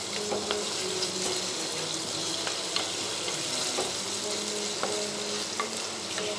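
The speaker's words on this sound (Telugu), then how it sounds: "ఆనియన్స్ అంతా బాగా వేగిపోయాయి" Onions frying in a pot, well browned, producing a dense, steady sizzle close by with occasional light clicks of a spoon against the pot, with no speech.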